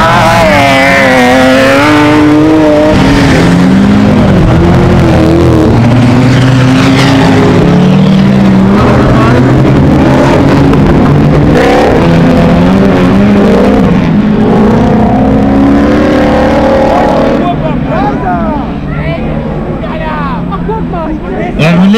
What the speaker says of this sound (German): Also Führung jetzt Andreas Sumit mit seinem allradgetriebenen BMW